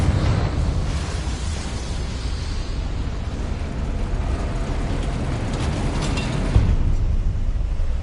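Confringo blasting spells in the game Hogwarts Legacy produce a continuous, dense roaring blast texture lasting several seconds, with a sharper impact near the end, loud and close with no talking.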